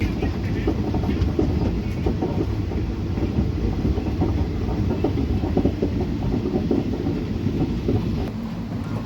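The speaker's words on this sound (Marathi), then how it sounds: "आपली ट्रेन जी आहे ती 1 मिनिटाच्या स्टॉपनंतर मोडलीमवरून निघालेली आहे." The 11414 Nizamabad Express rolling on after a one-minute stop at Modlimb, heard from inside a nearly empty coach: a loud, continuous rumble with steady clickety-clack rattling throughout.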